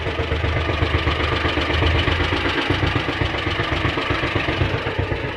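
An outboard boat engine at sea, having finally started, runs steadily with a loud, continuous rumbling chug close by and no speech.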